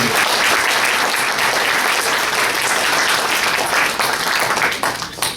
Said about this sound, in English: I'd like to have a round of applause for Terry for his maintenance